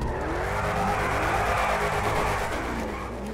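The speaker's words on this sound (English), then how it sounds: "I want to do some burnouts, man." Loud, sustained tire squeal and roaring engine from a car doing a burnout in GTA 5, a continuous screeching whine with rising and falling pitch, close up.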